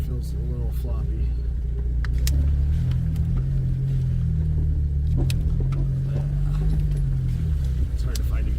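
A 2001 Jeep TJ crawls off-road in a low gear, its engine a steady, loud low rumble throughout with occasional rattles and clunks over bumpy ground.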